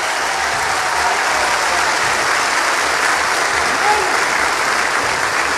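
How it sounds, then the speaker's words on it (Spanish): A crowd applauds new landowners of Sabana Grande de Boyá at a public event: dense, sustained clapping throughout, loud and even, with no speech over it. "quiero un aplauso a los nuevos propietarios de terreno de Sabana"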